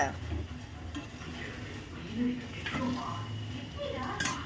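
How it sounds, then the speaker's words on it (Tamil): A spoon stirs spices in a hot pan for a kohlrabi sambar, producing soft scraping, light clinks and a faint sizzle. The sounds are close but quiet and sit under a low background. "இப்போ மெதுவாக கிண்டிக்கிட்டே இருங்க எதுவுமே போட வேணாம் கொஞ்சம் நல்லா வதங்கட்டும்"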